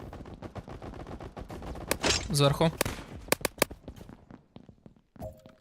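Rapid PUBG gunfire crackles in dense bursts, with sharp single shots and a brief automatic volley; a voice speaks briefly amid the shooting.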